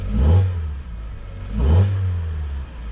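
A car engine with an LPI fuel system revs twice in quick bursts, rising to a roar then dropping back to a low idle rumble between them, close by, in winter.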